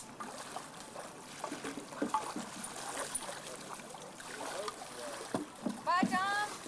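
Waves splashing and lapping around a small boat, with intermittent trickling and sloshing close by while people talk over it.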